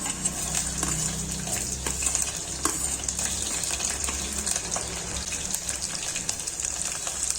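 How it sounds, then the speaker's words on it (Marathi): Chopped green chillies sizzle in hot oil with browned garlic in a pan for masala khichdi, a steady close frying hiss with light stirring scrapes and clinks throughout. "मिरची मस्त परतून घेऊ."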